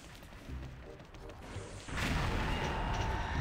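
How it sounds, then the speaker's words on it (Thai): Bomb explosions in the XSHOT video game, with the Magic Universe mummy stage, burst into a dense, rumbling blast that rises suddenly partway through after quieter game sounds, heard faintly and without talk. "ไปเราไปปาระเบิดตรงนี้แล้วกัน"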